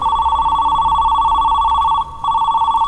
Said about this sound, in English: It's my Motorola Razr.